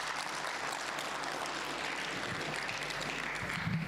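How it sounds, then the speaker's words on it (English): Audience applause at an e-learning summit, a fairly quiet, continuous patter of many hands clapping, even in level throughout and heard from some distance. "Let's give him a big round of applause"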